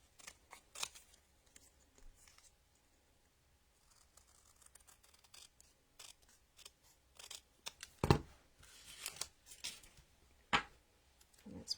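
Card stock being trimmed for a handmade Stampin' Up! greeting card, likely with scissors or a trimmer: scattered quiet snips and paper rustles, with a sharper cut near the end, close and soft, no talking.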